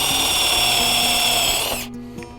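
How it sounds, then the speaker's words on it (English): A loud power drill whines steadily at high speed boring holes in wood, then spins down and stops near the end, followed by a faint clatter. "and drill the next hole."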